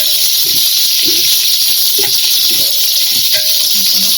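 Curry leaves and green chillies sizzle steadily while frying in oil for a Nellore-style fish curry. The hiss is loud and close, with small pops and crackles throughout.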